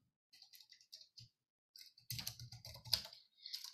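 Quick bursts of keystrokes on a computer keyboard as a word is typed, crisp and close, with short pauses between clusters and a denser run of taps toward the end.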